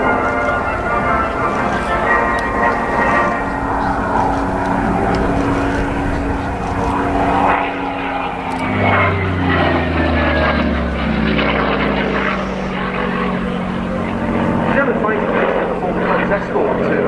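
A Messerschmitt Bf109G WWII fighter flies at an airshow: a loud, continuous propeller-engine drone whose pitch sweeps down and back as the plane passes and turns, with no quiet gaps.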